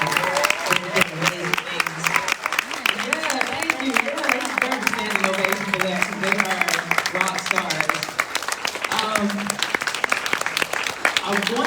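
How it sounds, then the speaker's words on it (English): Steady, dense applause fills a hall at a leadership summit panel, with voices cheering and calling out over the clapping the whole time. "So can y'all please give them a huge round of applause?"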